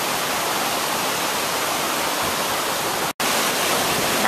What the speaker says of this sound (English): So here is that first waterfall.